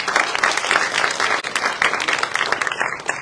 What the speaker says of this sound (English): So that by itself deserves a round of applause.